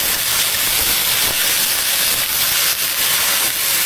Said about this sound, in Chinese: 淋上酱汁